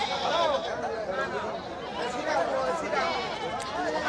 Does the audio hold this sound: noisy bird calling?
no